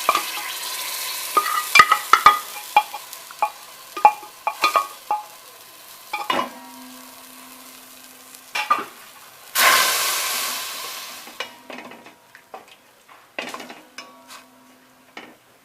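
Cooked pumpkin being sautéed in ghee, heard as repeated sharp spoon clinks and scrapes against the pan over a soft sizzle, with a louder burst of hissing midway.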